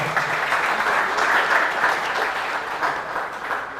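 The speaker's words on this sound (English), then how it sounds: "A big round of applause." Audience at an embedded systems and robotics event giving a sustained round of applause, dense steady clapping from a crowd that swells slightly and carries on for several seconds without speech.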